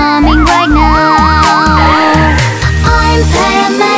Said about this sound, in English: The ambulance coming right